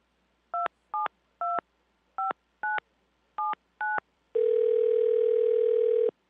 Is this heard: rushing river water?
no